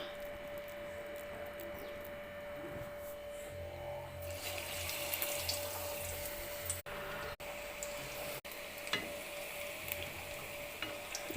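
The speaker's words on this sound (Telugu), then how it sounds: "డీప్ ఫ్రైకి ఆయిల్ కాగిపోయింది బాగా ఇప్పుడు వేసుకుందాం మనము ఆనియన్ బజ్జీ" Onion bajji fritters dropped into hot deep-frying oil give a faint, steady bubbling sizzle that swells partway through, over a low background hum with a few brief dropouts.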